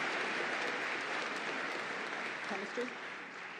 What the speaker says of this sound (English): Let us applaud the accomplishments of those graduating from chemical engineering programs.